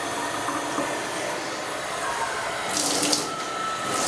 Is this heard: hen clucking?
no